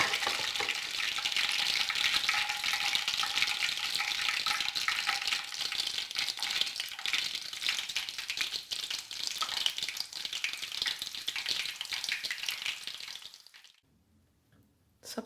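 Chicken shashlik sticks of onion, chicken and capsicum fry in a pan with a dense, continuous sizzle and crackle that thins out and drops away near the end, with no talking.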